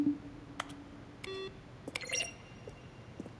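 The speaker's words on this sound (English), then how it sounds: "A selection of sounds used throughout the game when buttons pressed." Button presses from The Stanley Parable, each a keyboard-stroke click blended with a short synthesized beep or chime, several separate presses spread over a few seconds, clean and close with no talking.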